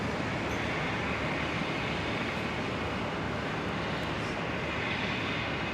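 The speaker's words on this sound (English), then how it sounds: "our next arrival currently turning onto final there in that wide shot, coming over the Gateway Bridge in the background. Qantas 524 coming in from Sydney." A Qantas airliner on final approach into Brisbane airport after a flight from Sydney, producing a steady, loud, broadband engine roar that holds unchanged throughout with no voices.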